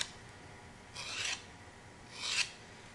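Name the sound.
metal scraper run along clay tile edges to bevel them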